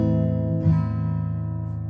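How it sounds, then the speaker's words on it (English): A minor chord strummed on acoustic guitar, one strum landing over a still-ringing chord and then sustaining and fading, close and alone without speech. "A minor"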